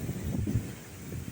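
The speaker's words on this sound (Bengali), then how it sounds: "হালকা হালকা বৃষ্টি পড়ছে আর অতিরিক্ত বাতাস দিচ্ছে।" Strong wind gusts with light rain during a cyclone-like storm over floodwater, a low rumbling roar buffeting the microphone throughout a brief moment, with no talking.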